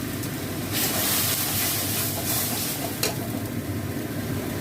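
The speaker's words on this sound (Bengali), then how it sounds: "হলুদ, ধনে গুঁড়ো, লঙ্কা গুঁড়ো আর চিনি, এই দিয়ে আমি এখন কষবো এটা।" Turmeric, coriander powder, chilli powder and sugar sauté in hot oil in a pan, giving a loud continuous sizzle with scraping stirs and brief bursts of hiss, no voices.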